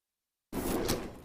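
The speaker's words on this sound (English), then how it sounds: "Now let's open this drawer to see if his gun is in there." A desk drawer slides open once, a short scraping rumble that starts abruptly after half a second of silence and fades slightly toward the end, close and fairly loud.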